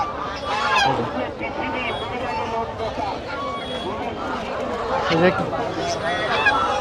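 Domestic and Chinese ducks and geese crowd a rural village market, honking and quacking close by amid a busy babble of people talking throughout.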